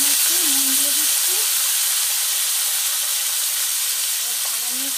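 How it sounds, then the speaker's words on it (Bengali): Potatoes dropped into hot oil give a loud, close, steady hiss of frying that holds evenly throughout, with faint tonal squeaks underneath. "তেল গরম হয়ে গেছে, আমি আলুগুলো দিয়ে দিচ্ছি।"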